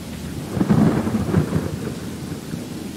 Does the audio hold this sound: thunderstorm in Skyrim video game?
yes